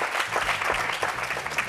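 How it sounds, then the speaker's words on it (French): A brief burst of sustained audience applause, a dense, even clatter of many hands clapping for a guest. "Allez, on va l'applaudir très fort."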